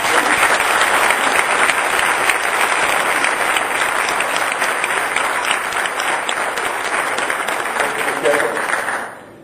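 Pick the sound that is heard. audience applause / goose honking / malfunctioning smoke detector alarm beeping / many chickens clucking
audience applause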